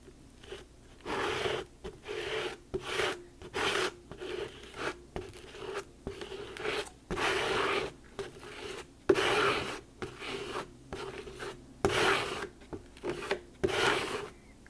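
A card scrapes paste across a sunburst stencil in repeated, close, rasping strokes, each lasting about a second with short pauses between them, in a quiet room without talk.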